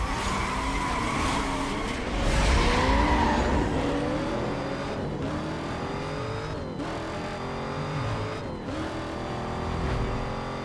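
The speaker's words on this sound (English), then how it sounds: "Damn, this car is so good for drifting." A video game car drifts with sustained engine revving and screeching tire skids, gear shifts and sliding squeals repeating over several seconds, loud and continuous.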